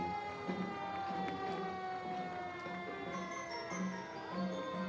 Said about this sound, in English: I hear an interesting siren coming around the corner.